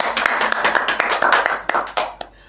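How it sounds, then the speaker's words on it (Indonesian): Applause from a school talk-show audience, a burst of scattered hand claps that fades toward the end, with no talking over it. "Berdua tepuk tangan."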